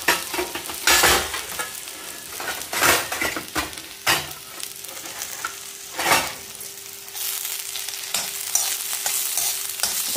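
Okra fries in oil in a pan on a hot stove, a steady close sizzle broken by repeated stirring scrapes and clanks of the spatula against the metal, with no one talking.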